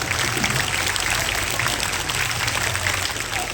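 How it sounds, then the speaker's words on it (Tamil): Schoolchildren clap their hands together at a school event, a dense, steady and fairly loud wash of many overlapping claps that continues without a break. "இதே கைத்தட்டுங்க பார்ப்போம்."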